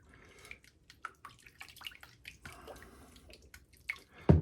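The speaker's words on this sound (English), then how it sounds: "I'm going to put my brush down into my water and let it get soaking" A shaving brush swished and soaked in a bowl of rinse water with dissolving soap lather, giving soft scattered splashes and drips, quiet and intermittent, ending with a louder slosh.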